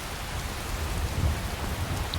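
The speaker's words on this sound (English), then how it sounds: "we're getting a little rain" Steady rainfall in the video game Skyrim, a continuous even hiss with low rumbling texture throughout, no talking.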